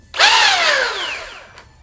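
A Frontline foam dart blaster spins its flywheels up with a loud, high whine that rises fast, then slowly winds down in pitch over about a second, close and alone.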